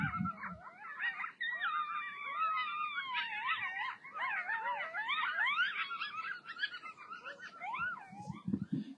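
Coyotes howl and yip together in a chorus of rising and falling wavering cries. The sound is fairly faint and distant and lasts without pause.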